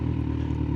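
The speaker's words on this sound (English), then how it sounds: "There's a bunch of cycles making a bunch of noise." Motorcycles in London traffic give off a steady, close engine drone with a rough, rumbling tone for under a second; no talking.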